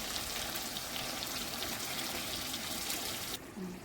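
Water poured into a hot pan of vegetarian matar paneer, made without onion or garlic, where the oil has separated: a steady, dense splashing hiss that runs unbroken for several seconds, then thins out near the end.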